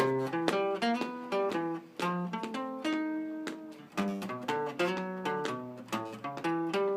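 Clean jazz guitar picking out chord tones one note at a time, steady flowing arpeggios across changing chords, close and alone with no talking.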